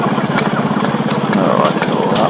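A vintage tractor engine runs steadily at a rally, its low rhythmic chug continuous and close throughout, with faint background voices mixed in.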